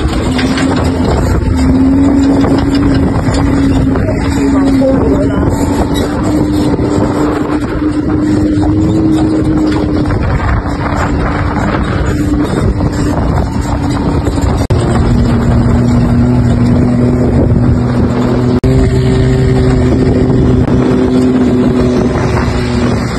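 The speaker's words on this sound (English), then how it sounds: "Just got done riding ATVs." Steady engine drone of a UTV ride in Cabo San Lucas, a loud, continuous hum whose pitch shifts slightly with speed, mixed with heavy wind buffeting on the microphone and no voices.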